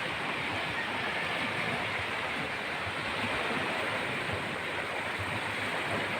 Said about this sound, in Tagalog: Ito yung dagat dito sa amin